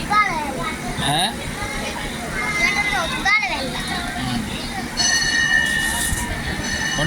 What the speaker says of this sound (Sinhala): ඔන්න යන්න හදන්නේ දැන් කෝච්චිය.